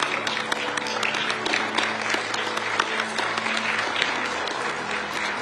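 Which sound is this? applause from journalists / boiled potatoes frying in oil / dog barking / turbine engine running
applause from journalists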